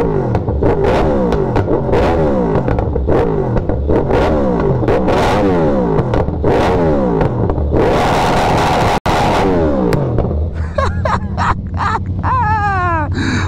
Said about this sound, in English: Let me give y'all a few revs, man, of this thing, so y'all can really hear it